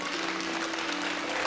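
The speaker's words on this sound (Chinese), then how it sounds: "我们用掌声来送给他那对" A studio audience bursts into brief, steady applause, dense even clapping filling the room at moderate loudness with no pause.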